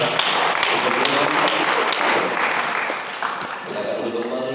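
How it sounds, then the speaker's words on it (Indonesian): A crowd of trainees claps steadily and densely for a classmate who has just finished speaking at a training session, a dense wash of hands that fades slightly toward the end, with a voice talking over it. "Tepuk tangan buat kawan yang sudah bicara."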